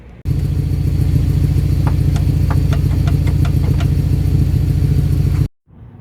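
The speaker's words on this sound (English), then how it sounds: "this clunking in the rear, which is a side-to-side motion in my wheel" A car's rear suspension, suspected worn upper control arm, gives a quick series of light, evenly spaced clunks over a steady, loud engine drone heard from inside the vehicle.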